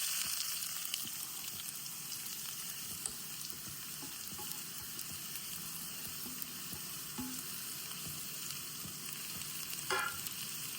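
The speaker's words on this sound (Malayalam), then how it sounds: "നമുക്ക് ആദ്യമേ ഈ സബോളയും പച്ചമുളകും വെളുത്തുള്ളി തക്കാളി എല്ലാം കൂടെ ഒന്ന് വഴറ്റിയെടുക്കാം" Onions, green chilies, garlic and tomato sautéing in a pan, with a steady close sizzle and frying hiss that continues throughout and a few stirring scrapes.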